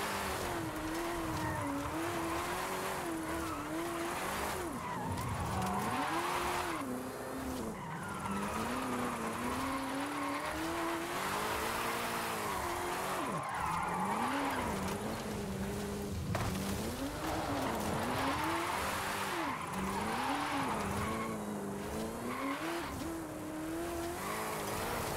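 A 2015 Ford Mustang GT, roughly 1.5 tons, drifts down a mountain road, its engine note rising and falling in long revving swells while tires squeal and scrub continuously through the slides, loud and close throughout with no voices.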